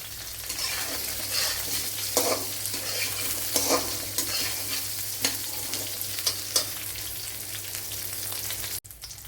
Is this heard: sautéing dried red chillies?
yes